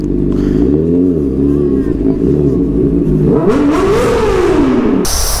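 A motorbike passes close by on a busy road, its engine note rising and then falling away across the pass, loud and continuous throughout.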